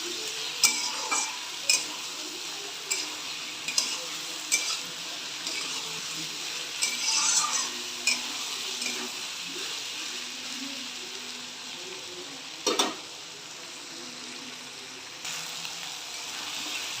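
Ginger, garlic, tomato, green chili and spices fry in a pan and are stirred, giving a steady bright sizzle broken by regular scraping strokes of a spoon, close and with no talk.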